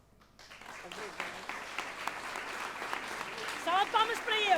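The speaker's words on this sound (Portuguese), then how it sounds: "uma grande salva de palmas" A hall audience at a senior Carnaval dance breaks into applause, rising from a quiet start into sustained, dense clapping with voices and cheers mixed in toward the end.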